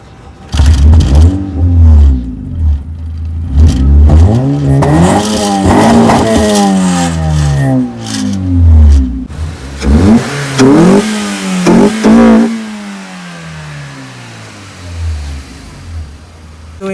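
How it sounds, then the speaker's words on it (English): A widebody Honda Civic engine revs repeatedly, its exhaust rising to loud, throaty peaks and falling back to idle between bursts, close by with no talking. "And now you will be hearing the exhaust note."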